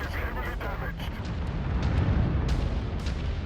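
Cannon fire and explosions from a Boar's Head Atlas mech in the MechWarrior 5 video game, heard as dense, continuous rumbling booms with sharper bursts layered over a heavy low roar.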